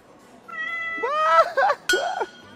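A cat meows several times up close at a private beach, drawn-out rising and falling cries with a brief clink between them and a faint voice in the background.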